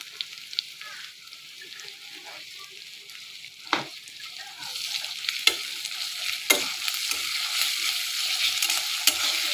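Spices with salt and ginger-garlic paste sizzle gently in a pan while being stirred, a soft crackling hiss that grows louder midway, broken by a few sharp scrapes and taps of the spoon.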